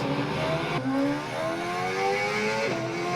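Race car engines rev and shift up in a PC racing game, a continuous loud whine climbing in pitch with a couple of gear changes, close and steady with no talking.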